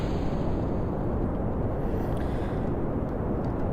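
A staging separation blast on a rocket in Kerbal Space Program, version 1.0, heard as a continuous loud, broad roaring rumble that holds steady throughout with no break.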